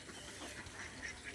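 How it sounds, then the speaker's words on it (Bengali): Farm ducks roaming beside a boal fish pond quack in short nasal bursts over a dense, noisy outdoor background, fairly close and continuous. "এই যে হাঁস"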